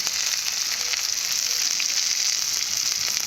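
Bitter gourd pieces fry in plain hot oil with a steady, bright sizzle that runs unbroken and close, with no voices.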